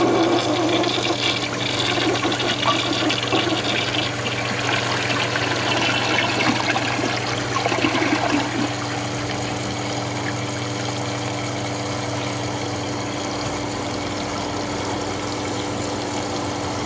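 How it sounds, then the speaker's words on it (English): A 1991 Kohler Wellworth toilet with its original flush valve, flapper and handle flushes loudly with rushing water, then settles into a steady hiss and trickle as the tank refills, continuing alone for many seconds. "Let's give this a flush."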